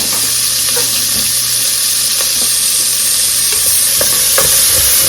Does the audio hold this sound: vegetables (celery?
yes